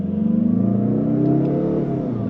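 A 2023 Mazda 3 Turbo's 2.5-liter turbocharged engine revs steadily, a loud, smooth droning pull that rises slightly in pitch without talk.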